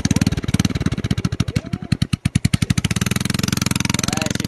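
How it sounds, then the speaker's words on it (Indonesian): A motorcycle engine idling right beside the microphone, with a loud, rapid, steady putter of firing pulses and a slight change in pace partway through. "Nah, sekarang sudah mau di starter motornya."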